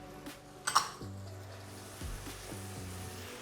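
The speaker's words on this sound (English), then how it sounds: "we're gonna let this cook for about 1 to 2 minutes till we get all that butter sauce mixed into our steak bites" Steak bites in garlic butter sauce on a stove: a soft, steady sizzle with a few clinks of a utensil against the pan near the start and low rumbling thuds underneath.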